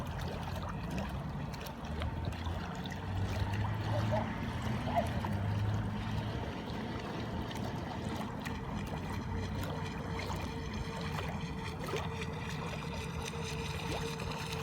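A CarpMaster fishing bait boat with a Falcon 3542 motor runs out on the water, a steady low motor drone with water trickling and splashing around the hull, constant and moderately loud throughout.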